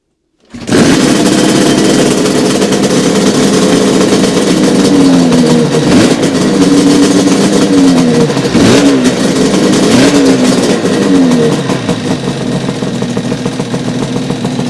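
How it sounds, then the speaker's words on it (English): Yamaha YZR500 replica motorcycle with an RD500 two-stroke engine, kick-started and then running loud and close, holding a raspy idle with repeated throttle blips that rise and fall. "we'll give it a quick kick over, see if it runs, and if it does, we'll take her outside"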